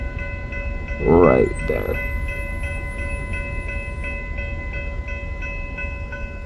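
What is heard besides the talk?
freight train being built in rail yard with caboose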